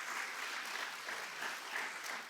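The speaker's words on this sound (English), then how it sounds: "let's give him a round of applause" An audience at a Texas Energy Day event at the Capitol bursts into steady, dense applause, a full wash of many hands clapping together without pause.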